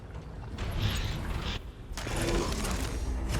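Mechanical trap machinery from swinging swivel-sword traps in the video game ESO (Elder Scrolls Online), a dense grinding, ratcheting clatter with creaks, continuous and fairly loud, briefly dipping midway before swelling again.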